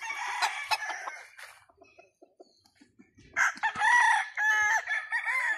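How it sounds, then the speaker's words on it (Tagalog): A rooster crows loudly and close by on a farm, with a couple of drawn-out cock-a-doodle-doo calls and some clucking from chickens between them. "Manok."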